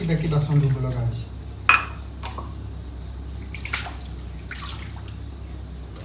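Water runs and dishes clink during washing at a home sink, steady trickling with a few sharp clanks of utensils; a voice speaks briefly at the start over the water.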